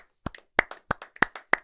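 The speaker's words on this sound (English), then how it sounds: "We'll clap it up for Betstamp, too." Podcast hosts clap their hands close to the mic in a quick burst of about six sharp claps, each a separate crisp crack, with no talking.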